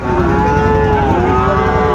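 Cattle moo with a loud, sustained, tonal low over a steady crowd din at a busy livestock market where Sahiwal bulls and calves are sold.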